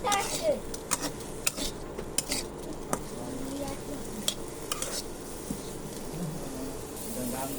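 Onions and chilies sizzle in a pan while being stirred for pasta, with steady frying hiss broken by sharp clinks and scrapes of a utensil against the pan. No one speaks.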